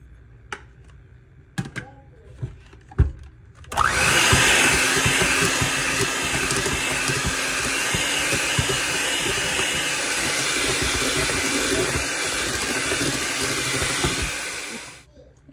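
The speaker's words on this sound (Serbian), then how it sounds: "Sad dodajemo žumance jedno po jedno i mutimo mikserom." An electric hand mixer beats egg yolks into whipped egg whites for a trilece cake batter. After a few light knocks, the loud steady whir starts and runs unbroken for about ten seconds before cutting off.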